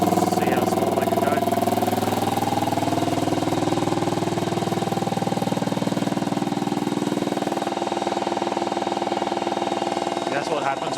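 An engine on test runs loudly and unevenly at close range, its pitch wavering and stumbling from a big injector run at a small opening time, with voices talking over it.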